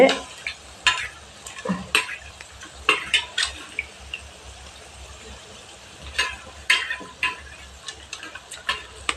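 Garlic kuzhambu masala sautéing in a pan with salt and chili powder, quiet spoon stirs and scrapes with sharp clinks and clatters of utensil against pot, scattered bursts over a faint background.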